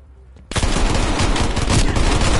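Pistol gunfire in the video game Call of Duty Cold War erupts after a brief quiet moment, a loud, dense run of rapid shots that continues without a break to the end.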